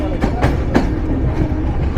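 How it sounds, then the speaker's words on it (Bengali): Panchagarh Express intercity train in Bangladesh running along the rails, with a steady close rumble broken by a few sharp rhythmic wheel clacks from on board. "আন্তনগর পঞ্চগড় এক্সপ্রেস যাত্রা শুরু করলো।"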